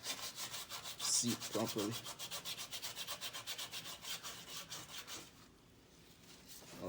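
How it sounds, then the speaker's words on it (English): Sandpaper rubs back and forth by hand over a rusty cast iron engine block during a water pump replacement, in quick steady strokes that stop near the end; a voice briefly speaks. "this is a cast iron block, so it's okay to use a little sandpaper on it"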